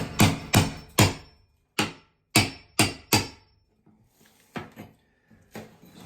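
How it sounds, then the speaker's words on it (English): Ceramic tile is chipped off a bathroom wall with sharp, close hammer blows, roughly a dozen hits in an uneven rhythm, loud at first and then softer, with small cracking and falling bits between strikes. "So this is the task at hand, chipping all this tile off."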